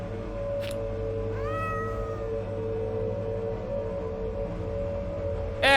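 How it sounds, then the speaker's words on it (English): A cat meows in the horror adventure game The Excavation of Hob's Barrow: one drawn-out, wavering meow in the first half, then a sharper cry right at the end, both over a steady low ambient game drone. "Wait a minute, it's that cat again."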